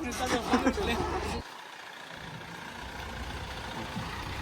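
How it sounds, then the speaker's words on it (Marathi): A vehicle pulls away on a pilgrimage trip to Pandharpur for Ashadhi Ekadashi. A loud engine rumble with muffled voices drops off abruptly, leaving a steady low road drone. "दुसरी गाडी पण निघलेली आहे"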